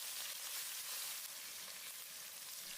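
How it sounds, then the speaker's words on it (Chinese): Scallion, ginger, garlic and dried chili stir-fried in a little leftover oil in a wok, a steady dense sizzle running loud and unbroken throughout with no talking. "锅留底油下入葱姜蒜干辣椒，"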